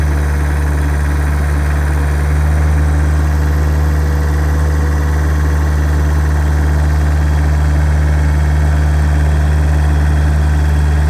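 A Caterpillar 247 compact track loader runs at a steady, loud, close engine drone with a faint knocking vibration while its bucket is dumped and lifted slowly, and no one speaks.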